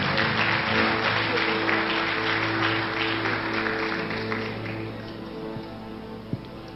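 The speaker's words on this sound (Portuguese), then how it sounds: "aplaudindo a Jesus, porque Ele é bom" A church congregation applauds together as people take their seats at a Brazilian evangelical service, the dense clapping sustained over a steady musical backdrop and gradually thinning toward the end.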